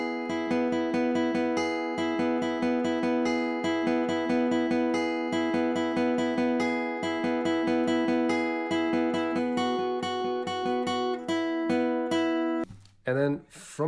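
An electric guitar plays a riff as a steady, repeating picked pattern of ringing notes, clear and up close. It ends in a brief scrape of noise.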